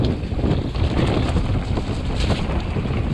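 Strong wind buffeting the microphone on a wet, foggy mountain bike trail at Cwmcarn, a constant loud roar and rumble with gusty fluctuations, no voices.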